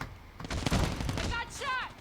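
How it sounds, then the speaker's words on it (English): Gunfire in a Search and Destroy match of a 3v3 competitive shooter, several shots bursting loudly over a steady game din, followed by short electronic-sounding chirps near the end. "I got shot!"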